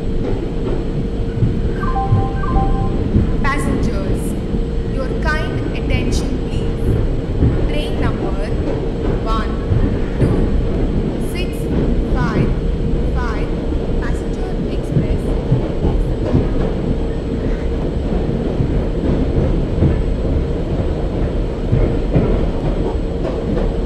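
Indian passenger express train from a train simulator game arriving at a station platform, a steady loud rumble and rolling rail noise throughout with a station announcement voice over it.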